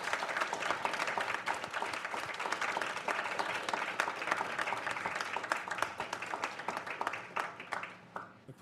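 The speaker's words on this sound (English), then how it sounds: "let's give Bill a proper round of applause" Audience applause for a speaker named Bill at a School of Public Health event, a dense steady wash of clapping that holds for about eight seconds and then thins out and fades at the end.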